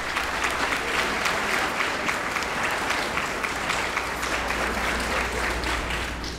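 Parents in an audience applauding fifth-grade students at an elementary school celebration, a dense, steady round of clapping with no talking.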